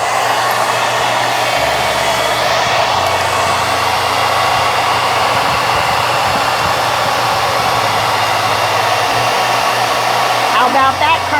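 A hair dryer and a Ninja air fryer run together powered by an Anker SOLIX F3800 power station, a steady loud blowing whir with a low hum underneath, unbroken throughout.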